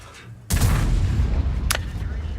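A single heavy tank gun shot from World of Tanks, a sudden deep boom with a long rumbling tail, followed by a brief sharp crack, all under a low background rumble.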